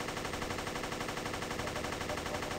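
A turret gun in the video game Guncraft fires in a rapid, unbroken stream, a dense rattling burst of automatic shots at steady moderate loudness throughout.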